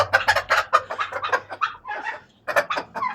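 An incubator-hatched chick chirps close by in a rapid series of sharp, high peeps, with a brief pause before a final burst of chirps.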